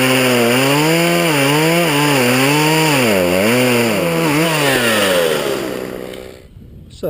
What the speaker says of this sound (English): Chainsaw cut through that.